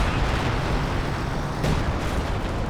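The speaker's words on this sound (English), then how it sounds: "bit of major artillery there" Heavy artillery fire in the strategy game Company of Heroes 2, a dense continuous roar of blasts and rumbling, loud and sustained with one sharper burst partway through.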